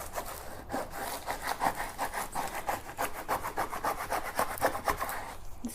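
A squeegee rubs a transfer down onto canvas in a run of quick, regular strokes, each one a raspy scraping swipe, close and moderately loud with nobody talking.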